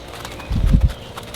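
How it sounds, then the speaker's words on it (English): Hooves of a cantering horse during a training session land in a quick cluster of three or four close, dull thuds, a short rhythmic burst in an otherwise quiet moment. "if you can get your horse to just canter forward"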